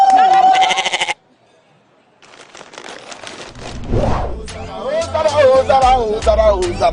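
A loud, close goat bleat used as a sound effect opens, followed by a short pause and then a lively mix of people talking and laughing.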